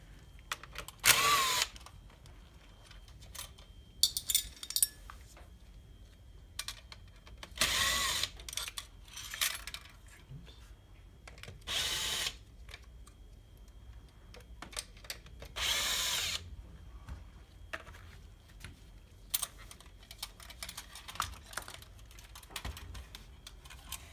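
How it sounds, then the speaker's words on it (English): A power drill spins out screws holding a Toyota Prius navigation unit to its faceplate, with several separate whirring bursts spaced between quieter clicks and handling of plastic parts at close range. "We're going to go ahead and take out 4 screws to remove the navigation unit from the faceplate."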